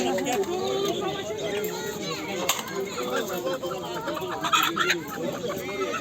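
Chickens cluck and squawk continuously amid a busy, crowded poultry and songbird market in Edirnekapı, Istanbul, with people talking and calling out in the background.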